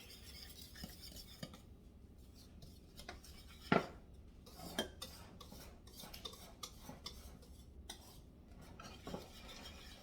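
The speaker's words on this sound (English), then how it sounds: "I'm just gonna kind of whisk it together until it's combined" A whisk or spoon scraping and tapping around a bowl while zucchini bread ingredients are combined, a quiet, continuous stirring rasp broken by a handful of sharper clinks against the bowl's side.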